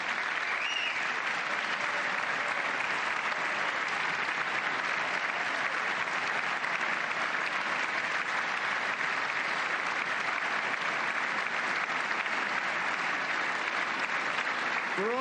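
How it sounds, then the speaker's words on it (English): Sustained audience applause for national firemen, a dense, steady wash of clapping that holds at an even level for the full stretch with no pauses or voices. "do we really need a minute of applause for national firemen?"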